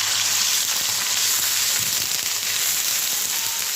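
Oil heats in a pan over a low gas flame, giving a steady, close sizzle and hiss that runs unbroken throughout with no talking.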